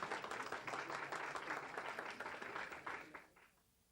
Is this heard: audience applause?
yes